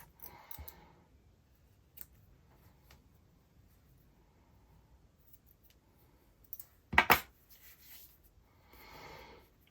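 Scissors snip yarn while trimming crochet Christmas decorations, a quiet early cut followed by one louder, sharp snip close by and faint rustling afterward.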